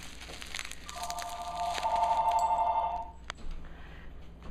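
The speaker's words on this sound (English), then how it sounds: "Okay, phone rang." A telephone rings once with a steady electronic trill lasting about two seconds, moderately loud amid faint crinkling of wrapping and a sharp crack afterward.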